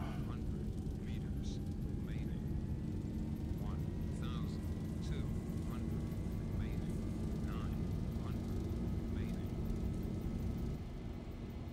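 Boeing 737 jet engines in X-Plane 11 spooling up for takeoff, a steady low roar with a slowly rising whine held throughout, steady and unbroken, with short clicks and tones scattered over it.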